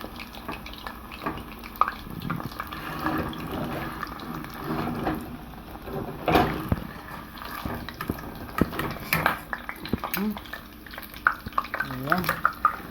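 Pork shoulder frying skin-side in a pan until crispy, a continuous crackling sizzle with scattered pops and utensil clinks as the meat is turned, close by, with occasional faint voice.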